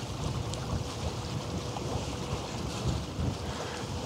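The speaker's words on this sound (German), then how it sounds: "stürmisch ist es noch nicht, aber es ist halt so ein, ja, gerade so ein eisiger Dauerwind" An icy, steady wind buffets an outdoor microphone at a harbour during a night of ship watching, a constant loud rumbling roar with no break.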